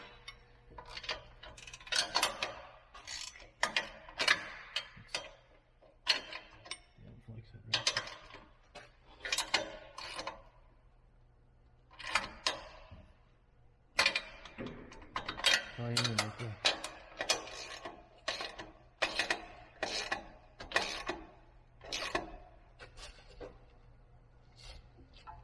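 A ratchet clicks in repeated quick bursts while tightening exhaust bolts on a 2009 Subaru Impreza 2.5i catback exhaust, close up, with pauses between strokes and faint background hum.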